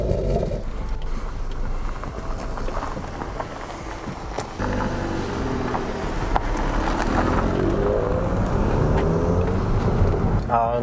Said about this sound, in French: Et c'est parti pour l'essai routier.